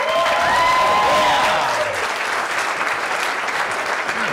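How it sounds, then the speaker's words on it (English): A sold-out comedy club audience claps and cheers in a dense, steady burst of applause that stays loud throughout, with a brief voice near the start. "how about another round of applause there for Russell Parker?"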